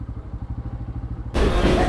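A motorcycle being moved aside to park engine idles near with a steady, throbbing pulse, then a sudden louder, rougher roar takes over for the final half-second.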